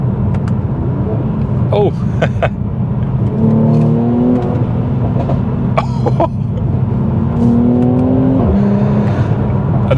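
A 400hp Mercedes C43 AMG in manual mode drops from fifth to fourth gear with loud, rising engine revs in two surges over a steady cabin drone, broken by a cough and a short exclamation.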